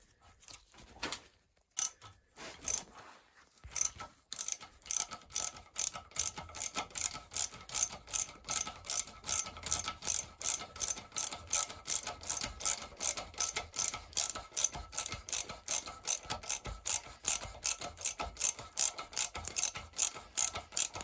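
A hand tool cleans the threads of a bolt hole on the EGR valve mounting of a 2015 Renault Master 2.3 dCi van, making a rapid, steady run of faint ratcheting clicks after a few scattered knocks.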